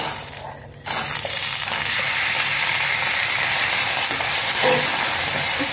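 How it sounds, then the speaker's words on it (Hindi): Green peas dry-roasting in a pan without oil give off a loud, steady hiss that starts abruptly after a brief quieter moment and continues unbroken, close up. "इसको हम बिना ऑयल के ही भूनेंगे"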